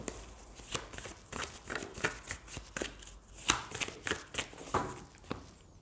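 Oracle cards being shuffled by hand, a fast run of crisp, papery riffles and slaps close by and fairly loud, with no talking.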